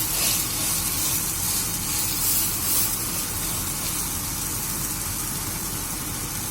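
Vegetable oats uttapam fries on a hot pan, giving a steady, close, dense sizzle that continues evenly throughout with no talking.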